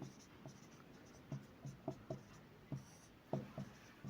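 Pen or chalk strokes during a physics lesson on atoms, a series of short, soft, irregular scratches and taps close by in a quiet room, with no voice over them.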